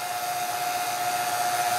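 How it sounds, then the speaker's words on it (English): A vacuum pump hooked to a car's air conditioning system runs continuously, giving a steady airy whine with a constant high tone, moderately loud and alone without speech. "Then we're gonna turn the vacuum pump off."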